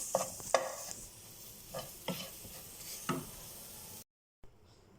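Tamarind being dry-fried in a pan for homemade rasam powder, a soft sizzle under repeated scraping spoon strokes, then a sudden brief silence before a faint sizzle returns.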